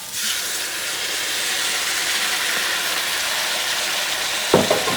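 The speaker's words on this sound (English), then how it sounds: "Mix that meat." Meat is mixed into a Louisiana-style gumbo pot with sausage, chicken and shrimp, giving a loud, steady sizzling hiss throughout and a couple of stirring knocks near the end, with no talking.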